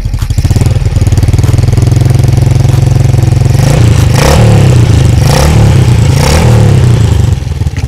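Motorcycle engine with a Supra 125 body cable idling loudly up close with a fast, throbbing clatter, then revved several times in swelling bursts, no talk.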